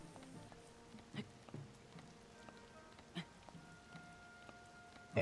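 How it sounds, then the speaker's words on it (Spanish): Steady rain falls in Zelda: Tears of the Kingdom, a soft continuous patter running the whole way with a few sharper drop hits and a louder burst at the very end, with no talking. "¿Va a fastidiar la maldita lluvia?"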